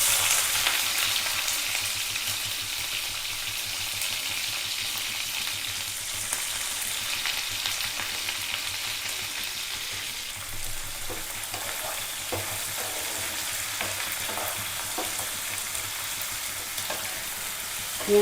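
Onion fries in a pan with tempered spices for Bengaluru-style tomato rice, a dense steady sizzle that stays fairly loud throughout, with soft intermittent ticks of stirring and no speech.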